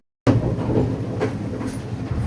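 A train running on a hill railway in Sri Lanka, a close, loud, steady rumble of wheels on rails that starts suddenly and carries on with faint rhythmic clatter.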